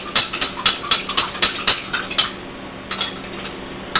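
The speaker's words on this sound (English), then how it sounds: "Stir that up a little bit." A spoon stirs an orange juice and tamari marinade in a dish, giving quick, bright metallic clinks in a steady rhythm. The clinks come in two bursts separated by a short pause, close and clear with no talking.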